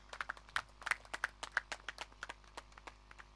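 Applause for a special guest at an honour ceremony during a village cricket tournament, a scattered patter of claps from a modest crowd heard at a distance, faint and uneven, fading after about three seconds.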